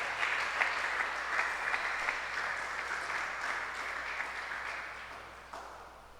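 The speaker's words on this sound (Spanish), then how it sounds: "Le puede dar un aplauso usted al Señor." A church congregation claps for the Lord, a dense burst of applause that starts strong and gradually fades over several seconds, with a few separate claps near the end.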